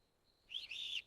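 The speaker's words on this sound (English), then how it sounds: "A bird sings softly in the tree." A single bird in a garden tree gives a short, soft, high chirping phrase lasting about half a second against quiet surroundings.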